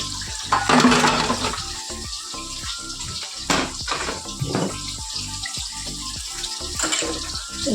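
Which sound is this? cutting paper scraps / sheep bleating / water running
water running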